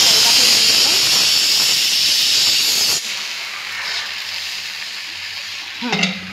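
A dosa fries crisply in a pan with a loud, bright sizzle that abruptly drops to a quieter hiss halfway through, ending with a brief clatter.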